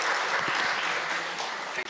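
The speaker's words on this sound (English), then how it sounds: "a big round of applause for Caelan and Ivy" Steady applause from a wedding audience clapping for the couple at a solemnisation ceremony, dense and continuous throughout, with only a faint murmur beneath.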